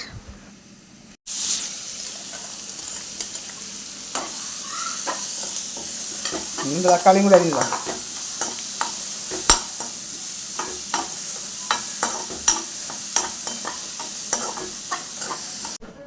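Onions sautéing in hot oil in a pan give a steady low sizzle with sharp intermittent clicks and spoon scrapes from stirring, plus a brief louder burst of frying partway through.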